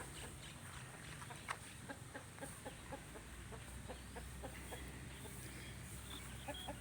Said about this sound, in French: Les coqs, les poulets sont en liberté